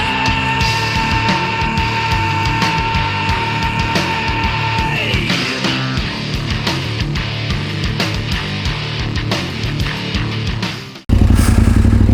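Big motorcycle engine running on a wet, slippery road, a steady loud drone with shifting tone, cut off abruptly near the end by a burst of wind or handling noise.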